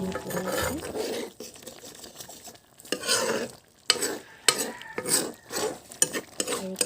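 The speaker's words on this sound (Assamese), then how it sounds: "এয়া এইখিনি উতলি আছে।" Banana-flower curry boils in a pot while a spoon stirs it, with continuous bubbling and sizzle broken by scraping strokes against the pot, close and fairly loud.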